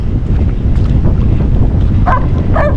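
Strong wind buffets the microphone in a constant low roar while fishing, with faint splashing water sounds in the background.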